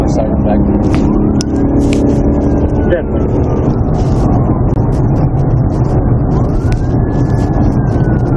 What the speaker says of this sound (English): Also be advised, I've got my siren back.